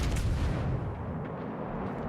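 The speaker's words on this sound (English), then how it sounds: "Now you will notice that we are shooting some HE here." Kronshtadt battleship fires high-explosive shells in World of Warships: Legends, a heavy booming blast at the start rolling off into a deep, fading rumble.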